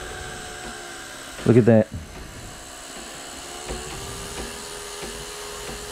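An electric drill spins a homemade paint mixer made from a plastic clothes hanger at low speed, giving one loud whirring burst of about half a second, followed by a person speaking over quiet background noise.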